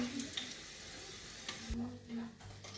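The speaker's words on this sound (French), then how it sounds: "je laisse cuire mon poisson tranquillement, bien grillé" Fish frying in a pan, a steady sizzle with a couple of brief utensil clinks and a faint voice in the background.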